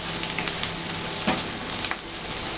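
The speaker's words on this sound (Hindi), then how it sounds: "और हल्का सा फ्राई कर लेते हैं ताकि जो अदरक लहसुन डाला है बिल्कुल अच्छी तरह फ्राई हो जाए" Ginger and garlic frying for mutton keema over a medium flame, a steady close sizzle with a few brief stirring clicks and scrapes, no talking.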